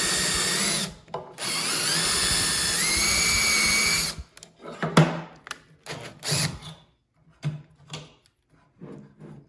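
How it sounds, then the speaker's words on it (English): A power drill runs in reverse while backing out of a countersunk hole in wood, a loud sustained whine for several seconds, then stops, followed by scattered clunks and handling knocks. "put the drill in reverse, and pull it"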